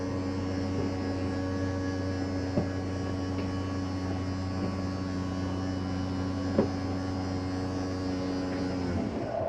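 The kitchen slide-out of a 2019 Keystone Bullet Premier 30RIPR travel trailer retracts with a steady motor hum and drone, constant and moderately loud throughout, with a couple of faint clicks and a fade at the end.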